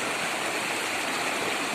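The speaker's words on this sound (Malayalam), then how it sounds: "ഇത് കണ്ടോ എന്ത് ശക്തിയിലാണ് നോക്കിക്കേ വെള്ളം ഒഴുകുന്നത്" Strong stream of water rushing beneath a small bridge, a steady, dense and continuous roar close by with no voices.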